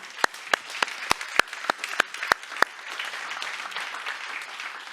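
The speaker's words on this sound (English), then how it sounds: "So I would suggest from here we actually give them a hand of applause to all of those online." Applause from a conference audience at a closing session: a handful of sharp claps ring out in the first few seconds, then settle into a softer, steady patter of clapping.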